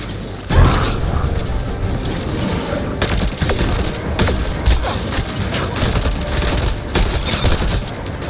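Gunfire in the video game Mass Effect: Andromeda, with a sharp shot at the start followed by a continuous barrage of loud rapid shots and bursts throughout.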